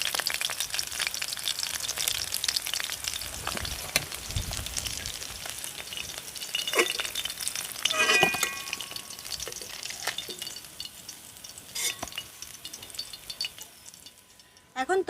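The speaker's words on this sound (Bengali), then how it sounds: "মাছগুলো বেশ সুন্দরভাবে ভাজা হয়ে গেছে" Bhola fish sizzle while frying in oil, a continuous crackling hiss with occasional stirring and clatter, heard up close and fairly quiet.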